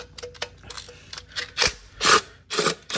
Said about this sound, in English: You can do this with a ratchet, obviously, but I'm using my low impact